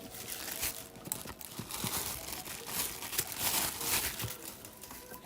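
Continuous crinkling and tearing of foil One Piece trading card packs being opened at a card shop, with crackly rustling bursts up close and a faint hum behind.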